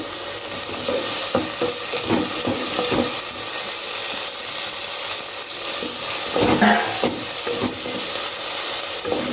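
Finely chopped tomatoes and green chillies fry in a hot pan for a leftover-batter vegetable dosa, giving a steady close sizzle broken by scrapes and knocks of a stirring spoon, with no talk.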